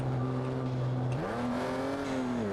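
A car engine in BeamNG Drive revs hard with a nitro boost, holding a steady drone, then its pitch climbs sharply partway through and stays high and loud throughout.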